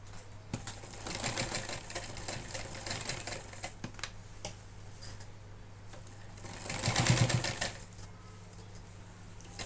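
Sewing machine stitching a cloth bag, giving a rapid mechanical clatter in steady runs with a louder burst near the end, fairly quiet and close, with no talking.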